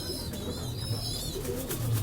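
Red-eyed pigeons coo in a continuous low burbling drone, steady and close, under a bright hissing background with faint high tonal whistles.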